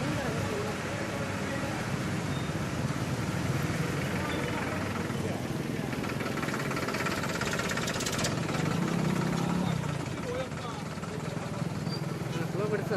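A tractor engine idling and rumbling steadily during a funeral procession, a continuous mid-low drone with people talking over it.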